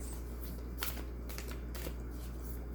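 Oversized tarot cards being shuffled by hand, a steady papery riffling with a few sharper flicks, close and fairly quiet over a low steady hum.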